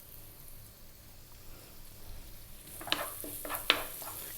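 Ginger strips and black pepper fry in sesame oil in a pan, a low steady sizzle that grows, then turns into a few louder crackling spits and bursts near the end, with no talking.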